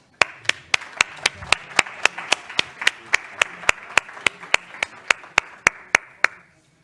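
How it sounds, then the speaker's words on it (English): Even, evenly spaced claps ring out one after another, about two dozen crisp hits at a steady pace, congratulating an agreement signing at a digital talent summit, then stopping abruptly into quiet. "congratulations and a big applause"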